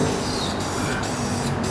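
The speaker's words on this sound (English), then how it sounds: "You come across with this product, spray it over the plastic surfaces." Slipstream60 cockpit spray hisses in a continuous close blast onto plastic surfaces, loud and even for under two seconds.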